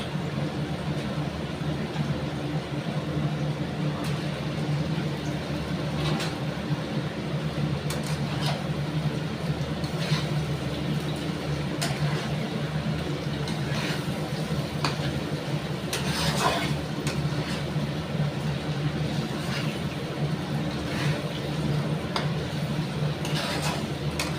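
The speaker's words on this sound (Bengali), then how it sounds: "এবার এর মধ্যে আমি চিকেনটা দিয়ে দেবো।" Chicken frying in a pan with browned tomato and onion, giving a steady low sizzle with faint intermittent ticks and clinks over a constant background hum.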